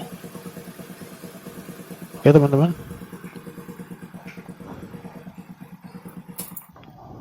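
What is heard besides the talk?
motorcycle engine running before being switched off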